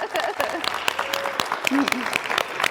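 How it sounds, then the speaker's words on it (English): Audience applause at a live finale show, a dense patter of clapping with voices mixed in throughout. "can we just clap for them?"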